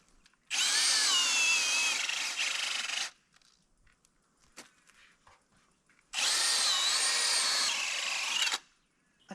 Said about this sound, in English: I think I'm going to let that drill cool down though.